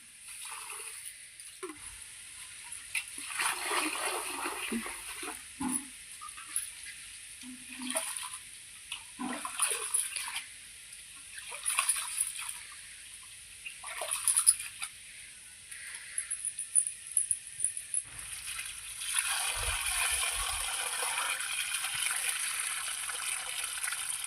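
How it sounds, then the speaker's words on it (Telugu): Rice being washed in water by hand for Telangana sakinalu, with irregular splashing and sloshing swirls that rise and fall over about twenty seconds; close and moderately quiet, with no talking. "ఇక కడుక్కోవాలి బియ్యము బియ్యము మంచిగా కడుక్కోవాలి"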